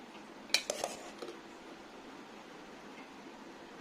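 Metal utensils clink against a thali plate while rice is served, with a sharp cluster of clatters early on and then only a faint room hiss.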